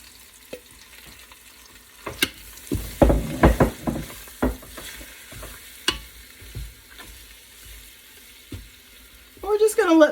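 Chicken pieces sear in a Ninja Foodi on the sear/sauté setting, a low sizzle broken by a burst of clattering knocks and scrapes as the last pieces are pushed in, then scattered clunks.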